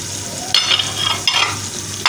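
Dry spices and softened tomatoes sizzle in a pan for dhaba-style aloo gobi, with steady frying hiss and a few sharp bursts as the mixture is stirred.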